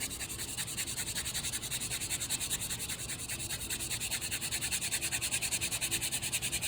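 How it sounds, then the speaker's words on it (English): A water-dampened wet sanding sponge rubs back and forth over a Starrett magnetic indicator block being restored, a fast, even, rhythmic scrubbing at close range that is faint but steady throughout, without speech. "We're going to just put a little water on our wet sanding sponge here."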